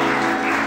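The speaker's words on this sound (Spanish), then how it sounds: "Le damos el aplauso" Audience applause at a live concert, a dense steady wash of clapping that fills the whole short moment at close, loud level, with no voices standing out.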